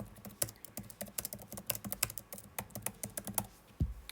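Rapid typing on a computer keyboard, close and clear, with dense irregular key clicks and a heavier thump near the end.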